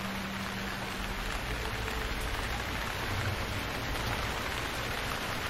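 Steady rain in the survival video game Stranded Deep, a continuous hissing downpour of even loudness with no pauses, heard alone without speech.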